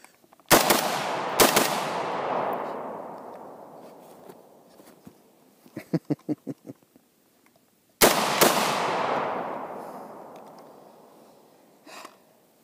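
FN SCAR 16S rifle fired outdoors, two loud close shots a second apart with long ringing decay, a cluster of light metallic clicks, then another single booming shot trailing off.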